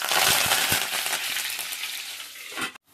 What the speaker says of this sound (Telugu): ఇప్పుడు తాలింపు గింజలు వేసుకుంటున్నాను